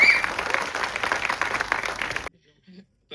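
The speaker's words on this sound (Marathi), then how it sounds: "एकदा सगळ्या टीमसाठी जोरदार टाळ्या होऊन जाऊ देत." Audience applause for a film team at a Marathi horror film trailer launch, dense clapping from a crowd for about two seconds, then cutting off abruptly into near silence.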